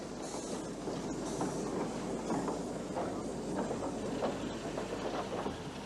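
A broad-gauge passenger train rumbles along at a distance on Portugal's Linha do Corgo, wheels clicking rhythmically over the rails in a steady, low mechanical roar.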